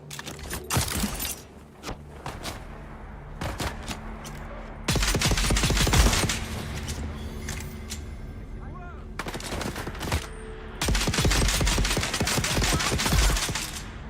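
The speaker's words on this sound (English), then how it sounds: "I want to try shoot him to see if the bullets get through his shields" Gunfire in the game Dune Awakening, fired at an enemy's shield: loud bursts of rapid shots in several clusters, with long sustained volleys in the middle and at the end over a low in-game background.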